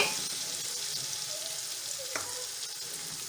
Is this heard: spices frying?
yes